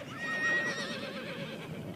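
A Pura Raza Española horse gives a loud, close whinny with a quavering high pitch that trails off over about two seconds, over a dense background noise.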